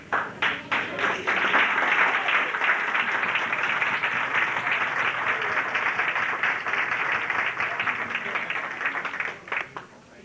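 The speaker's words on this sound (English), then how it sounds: "now we can give them all a good round of applause" Audience at a 1986 vocational training center graduation in St. Louis breaking into applause, with dense, sustained clapping from a crowd that builds quickly, holds steady for about nine seconds and then tapers off.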